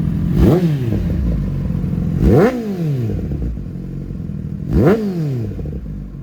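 A 2023 Kawasaki ZX-10R sport motorcycle engine revs up three times in sharp, loud bursts, each climbing and dropping back to a rumbling idle, recorded close with no talking.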